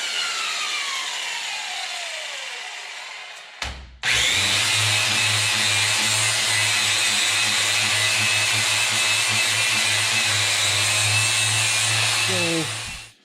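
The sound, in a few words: polishing wheel grinding a vintage camp axe head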